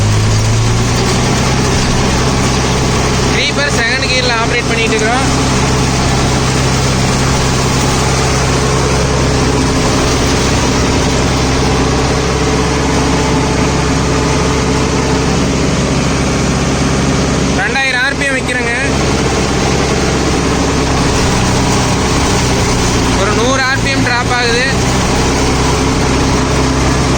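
A Mahindra Novo 605 DI CRDI 60 HP 4WD tractor runs in creeper second gear while mulching banana, holding a loud, steady diesel drone throughout, with someone talking over it.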